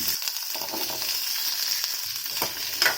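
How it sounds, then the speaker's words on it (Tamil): Small shallots sautéing in oil for a Kongu-style tomato curry, a moderate sizzle broken by occasional stirring scrapes and light clatter, with no one speaking. "எண்ணெயிலே வதக்கிக்கிறலாம் வெங்காயம் வதங்கட்டும்"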